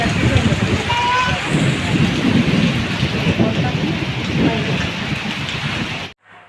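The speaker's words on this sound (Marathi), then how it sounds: "मस्त पाऊस पडतो सर्व गार दिसतं" Heavy monsoon rain pours continuously in a village, a loud, dense hiss with low rumbling texture that holds steady before cutting off at the end.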